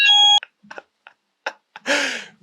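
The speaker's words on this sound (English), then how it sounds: "Fire alarm going off." A fire alarm sounds in bursts: a steady harmonic electronic beep at the start, then short intermittent bleeps and a louder broadband burst near the end, all fairly close.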